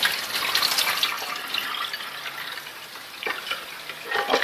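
Salt water is poured into an Enagic Leveluk Super 501 water ionizer, a steady splashing hiss of liquid running into the machine, fairly close and alone with no voices.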